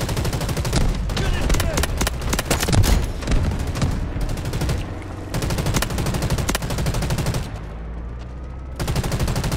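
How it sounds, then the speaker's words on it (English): A heavy machine gun fires in the video game Delta Force in long, rapid bursts of loud gunfire, broken by short pauses and mixed with in-game effects. "I got a heavy machine gun."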